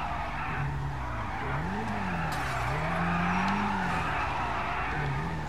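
Cars skid through a street race in a video game, a continuous engine roar overlaid with long wavering tire squeals that rise and fall, loud and close, with no talk.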